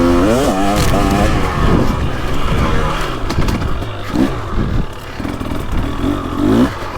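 A 2023 KTM 300XC dirt bike engine revs hard with quick throttle blips, its loud rising and falling engine note running steadily throughout, close to the rider.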